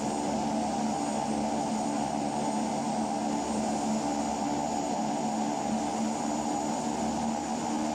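Royal Nepal Airlines Twin Otter propeller aircraft taxiing, a constant loud engine drone with a steady propeller hum, heard from inside the cabin without pause.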